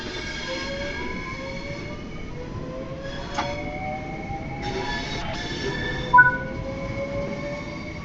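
A Class 465 Networker electric train in Train Sim World 4 on the East Coast Main Line gets moving with a rising motor whine and rail rumble, one brief clunk, and a faint squeal near the end.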